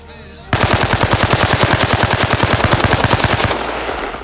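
Rapid automatic gunfire from Arma Reforger pours into a target in one sustained burst of about three seconds, each shot sharp and evenly spaced, loud and close with no voices over it.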